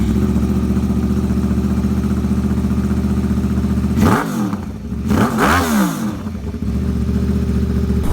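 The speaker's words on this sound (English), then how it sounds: "is actually a CBR1200 or a Yamaha R1 with a Toche exhaust fitted on it" A sport motorcycle, a CBR1200 or Yamaha R1 with a Toche exhaust, idles with a steady burble, then its exhaust roars through two sharp revs before settling back to idle. No voices.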